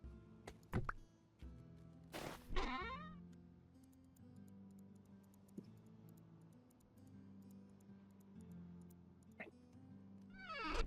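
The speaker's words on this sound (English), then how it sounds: "I'm just going to go and let this cat in because he's scratching at the door." A house cat let in at a door: loud, close meows near the start and end, with bumps and handling noises in between and a person talking.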